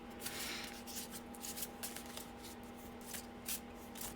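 Soft, rapid riffling of cards being shuffled, a fluttery papery patter repeating in quick bursts, quiet and close.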